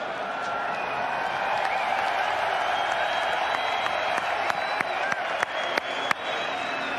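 Large crowd applauding and cheering at the Formula 1 Dutch Grand Prix in Zandvoort, a dense steady roar of clapping with a few sharper claps and whoops standing out, continuous and loud throughout.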